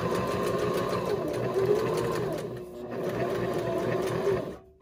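Sewing machine running steadily at close range, stitching fabric and sewing slowly over pins while making a monkey soft toy; a continuous whirring hum with a brief dip in the middle before it winds down at the end.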